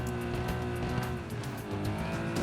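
A red Bugatti Chiron drifting, its tires squealing in a sustained, loud screech over roaring engine noise, with the sound holding steady throughout.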